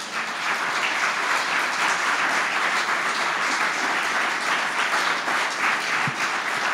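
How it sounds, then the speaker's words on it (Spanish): A church congregation applauds the Lord in sustained, dense clapping that holds steady and fairly close throughout, with no voices standing out. "Dale un aplauso al Señor."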